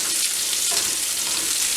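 Onions and bacon sautéing in a pan, a steady close sizzle and crackle of frying fat running throughout the short stretch without any talking.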